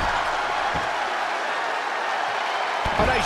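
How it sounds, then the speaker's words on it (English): Crowd at a WWE Monday Night RAW wrestling arena show cheering, a steady broad roar of many voices throughout with a few louder swells near the end. "this crowd's starting to perk up, Michael"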